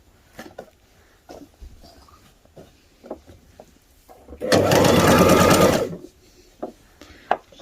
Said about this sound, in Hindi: तो फिलहाल तो कैपरी के जो फ्रंट वाले दोनों पीस हैं उनको सिलाई कर रही हूँ।